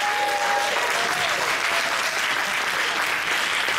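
Sustained audience applause at an evening political gathering in Lorient, dense and steady clapping filling the room throughout without any voice on top.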